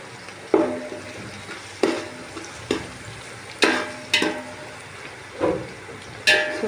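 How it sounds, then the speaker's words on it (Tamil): Sliced onions fry in a pan for chicken biryani, a continuous sizzle broken by regular scraping stirs of a spatula roughly every second, close and clear. "இப்போ நம்ம இந்த ஆனியனை நம்ம நல்லா ஃப்ரை பண்ணி எடுத்துக்கலாம்"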